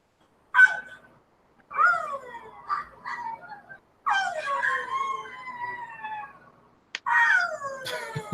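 Dogs vocalize in a quiet room: a run of drawn-out howls, yips and whining, talk-like calls in several bursts separated by short pauses, fairly close and moderately loud.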